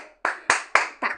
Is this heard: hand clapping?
yes